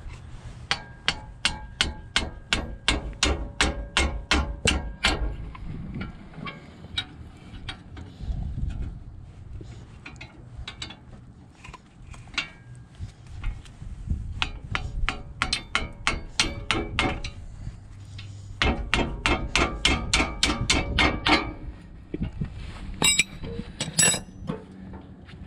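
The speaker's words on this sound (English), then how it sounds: "when you're putting these back on, hit the hammer about as many times as you hit it to take it off" Brake caliper pins are tapped back into place with a hammer, giving bursts of rapid, sharp metallic taps in clusters, with lighter clinks and handling noises between them, fairly close.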